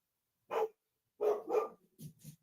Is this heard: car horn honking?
no